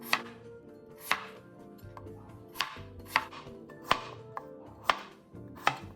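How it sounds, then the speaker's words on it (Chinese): A knife chops a peeled potato into roll-cut chunks on a cutting board, eight or so crisp, evenly spaced strikes with soft sliding in between, close and quiet, with no voices. "马铃薯1个，400克，削皮后清洗干净，像视频中一样切滚刀"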